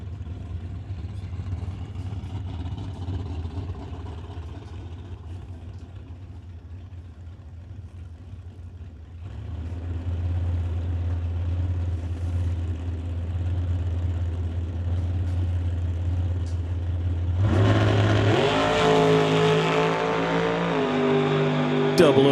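Drag race car at Mission Raceway Park's Titanium Strip during the West Coast Classic, a steady engine drone that jumps to a loud, harsh roaring launch near the end, with talk running over it.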